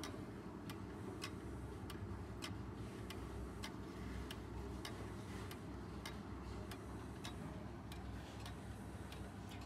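Mechanical ten-hammer chiming clock with a large steel coil gong and an open three-plate movement ticks in a steady, even rhythm, about two ticks per second, close up over a constant low hum.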